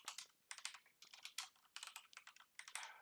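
Quiet, close bursts of clicking keystrokes on a computer keyboard while entering Python code, fast irregular typing with brief pauses between runs.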